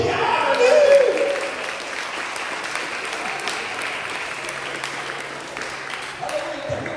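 A church congregation at a Sunday Baptist service applauds, a broad wash of clapping that swells early and then continues more softly, with a voice speaking over it.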